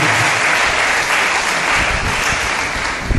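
A church congregation bursts into sustained applause and acclamation for Jesus, a dense, loud, even wash of clapping running the whole time with no talk over it.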